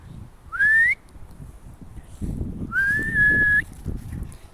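A person whistles outdoors beside a stream to call dogs back: two clear rising whistles, a short one then a longer held one, over steady rushing water and wind.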